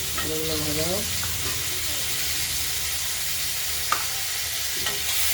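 Potatoes frying in hot oil and spices in a pan for a rohu fish curry with tomato, giving a loud, continuous close sizzle and hiss with a few brief clinks and stirs, no talk.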